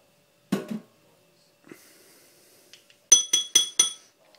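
Dessert spoons clinking against a dish: one dull knock early, then a quick run of four bright, ringing metallic clinks close up near the end, separated by near silence.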